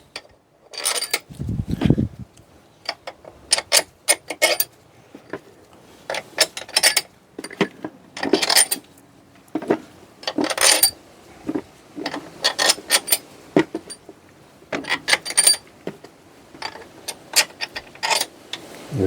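Head bolts dropped one after another into the cylinder head of an Opel Corsa Utility 1.4i make a close series of sharp metallic clinks and rattles at an irregular pace, with short quiet gaps between them.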